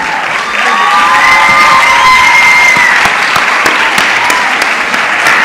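Audience at a school project awards ceremony in Turkana County breaks into steady, loud applause with scattered cheers and whistles, sustained throughout at close range.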